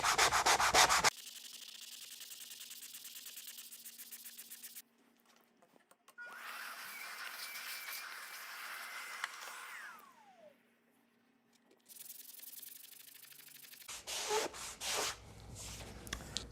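Sandpaper rubbing back and forth across the wooden seat of a Maloof-style rocking chair in steady scratchy strokes, close up, with short pauses between bursts of sanding.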